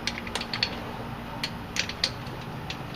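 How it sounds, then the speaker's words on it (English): A ratchet clicks in short, close bursts while bolts are tightened on the sway bar of a 1999–2004 Jeep Grand Cherokee during an Addco sway bar install, with quick rapid pawl ticks over a low background hum. "Let's get all 6 bolts installed."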